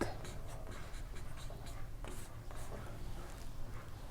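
Chalk or pen scratching across a board during a Class 12 three-dimensional geometry maths lesson, a run of quiet, intermittent strokes and taps with faint room noise.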